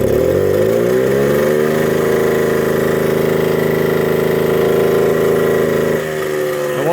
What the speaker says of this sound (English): And watch how slow it is to come off idle.